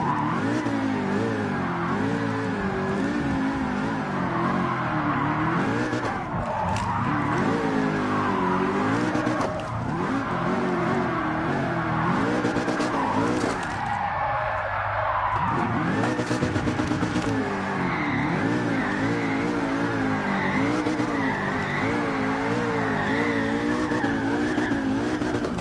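A race car in the video game Gran Turismo Sport runs a lap with a continuous engine roar that rises and falls through gear changes, with tire squeal and skidding in the corners.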